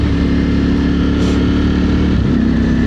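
A Ducati Streetfighter V4 SP motorcycle engine pulls hard in third gear, a loud, steady, close roar that holds throughout with a slight pitch shift near the end.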